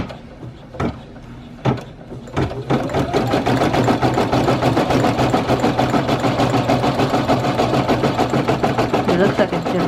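A Brother PE800 embroidery machine starts after a few knocks and runs steadily, its rapid rhythmic stitching chatter continuing close and even.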